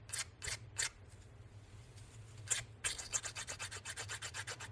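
A nail file rasps against a hardened resin edge in a series of quick, close strokes, a few scattered passes followed by a steady rhythmic run of about a dozen short rubs, with a low hum underneath.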